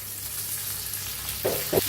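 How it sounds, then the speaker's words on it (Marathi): Cumin seeds frying in oil for a green chilli chutney, a faint steady sizzle with two brief louder crackles near the end, no talking. "असं तेल घालायचं म्हणजे मस्त भाजताल आपले जिरं"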